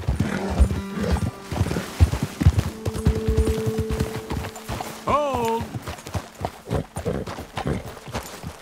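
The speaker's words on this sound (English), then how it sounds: "Okay, let's dismount here." Horses in the video game Red Dead Redemption 2 riding up a slope, with rhythmic hoof clip-clops close by and a clear neigh midway, over game ambience.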